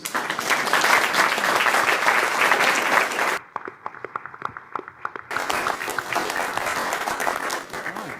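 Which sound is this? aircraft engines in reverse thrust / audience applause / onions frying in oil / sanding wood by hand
audience applause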